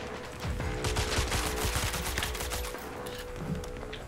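Continuous gunfire in the heist shooter PAYDAY The Heist, a dense rattle of overlapping shots that holds steady for several seconds with no speech.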